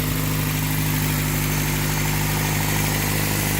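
A rebuilt engine in a Toyota 4x4 pickup runs at a steady idle, a close, continuous rumble with a constant low hum and slight vibration, no voices.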